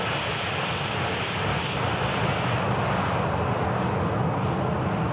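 A KLM airliner taxis at Manchester Airport, its engines producing a loud, steady, broadband roar that holds constant throughout with no voices.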